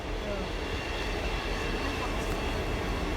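A passenger train, the 813 service to Liverpool via Grantham and Nottingham, rumbles past in a steady, loud, continuous roar of wheels and engine that holds level throughout, with no distinct voices over it.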